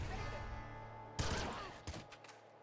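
Bursts of laser shotgun fire from the game Nuclear Throne, a sharp noisy blast followed by a few shorter, fainter shots over a humming game soundtrack.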